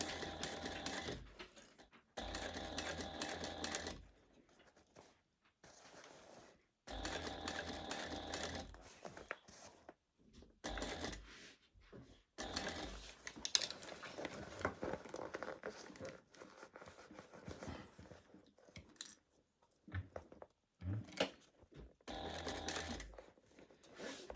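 A sewing machine stitches binding onto a cut-and-sew bag in a home sew studio, running in several bursts of rapid mechanical whirring and needle clatter, with short pauses between runs and near, fairly quiet.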